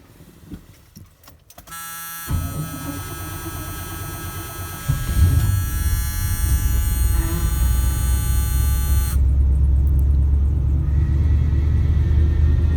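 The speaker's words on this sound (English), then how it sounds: "So here's a 20 degrees cold start." A car engine cold-starting at 20 degrees during a winter storm: a few seconds of near silence, a cranking burst, then the engine catches and settles into a loud, steady idle with a strong low rumble and a whining pump tone.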